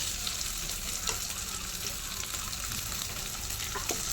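Boiled potatoes hit a pan of frying chilies for a fasting potato dish, giving a loud, continuous close sizzle with faint scraping stirs underneath.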